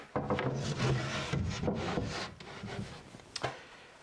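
A wooden top is fitted onto an IKEA cabinet, with close, quiet scraping and rubbing of wood on wood, a couple of soft knocks and a sharp tap near the end.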